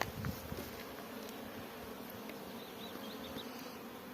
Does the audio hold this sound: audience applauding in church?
no